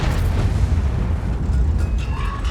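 Tank cannon shot from a T110E3 in World of Tanks, a deep booming blast rolling into a dense low rumble that fills the short moment, loud and close.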